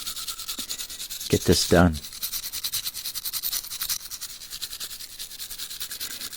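Steady, rhythmic rubbing and scrubbing as a diecast car is cleaned and prepped for paint, close and even throughout, with a brief spoken phrase over a short louder scuffing burst.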